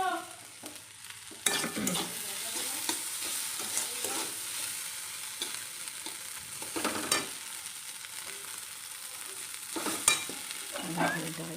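Boiled moong dal and vegetables fry in a pan with a soft, steady sizzle and intermittent scraping strokes of stirring, at a fairly quiet level and without any voices.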